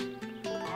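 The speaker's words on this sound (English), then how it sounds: "Good horsey. Such a good horsey." A horse in the farming video game Harvest Moon: A Wonderful Life gives a short, close, clear whinny, a single bright neigh heard on its own.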